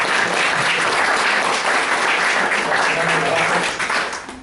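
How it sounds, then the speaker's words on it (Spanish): An audience at a lecture on the religious atmosphere in the time of Jesus breaks into loud, dense applause that holds steady for several seconds before tapering at the end. "Un aplauso para..."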